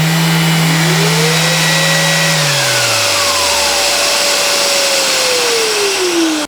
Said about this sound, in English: Turn it to automatic, and now when I turn the sander on,